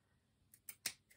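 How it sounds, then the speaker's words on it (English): Scissors snip a fabric fringe for a holiday cork decoration, giving three or four crisp, quiet cuts in quick succession, the third the sharpest, with no talk over them. "just take your scissors and carefully snip."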